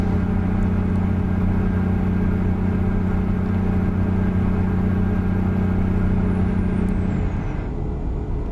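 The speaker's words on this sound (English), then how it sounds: "because this engine is loud" Dodge Bighorn CNT950 semi truck engine in American Truck Simulator while hauling logs, a loud, steady low droning rumble that holds throughout, then its tone drops and softens near the end, with no talking.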